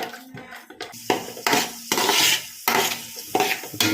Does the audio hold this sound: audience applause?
no